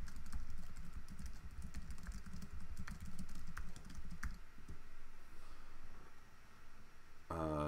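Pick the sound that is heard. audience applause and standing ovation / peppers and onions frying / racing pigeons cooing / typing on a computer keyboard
typing on a computer keyboard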